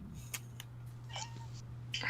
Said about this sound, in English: We heard a cat!